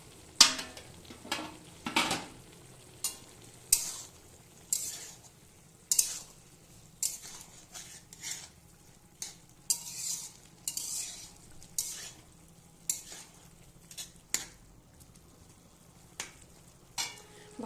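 Vegetables frying in a pot for khichuri, a soft sizzle under repeated clinking scrapes of a spoon stirring against the pan, about one stroke per second, close and alone.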